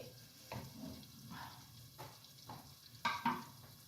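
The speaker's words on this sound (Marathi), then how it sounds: "थोडा कांदा जरा नरम होऊ दे." Onions fry softly in a pan, a quiet sizzle with occasional scrapes and knocks of a spoon stirring, faint and close, without voices.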